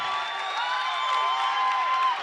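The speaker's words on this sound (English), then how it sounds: "the crowd is whooping it up here" High school boys basketball crowd whooping and cheering after a steal, a sustained loud roar of voices with shrill whistle-like whoops rising over it from start to finish.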